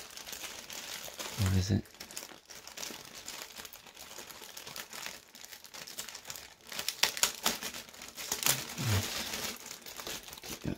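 A plastic bag crinkles and crackles as it is opened during a video game unboxing, the crisp rustling bursts coming close and intermittent while a person talks over them.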